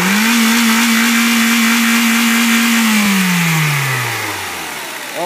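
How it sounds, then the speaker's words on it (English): A UTV built with a Ford Focus 2-liter engine holds a loud, steady buzz against the rev limiter for about three seconds, then the revs fall away smoothly as the throttle is released. "rev limiter."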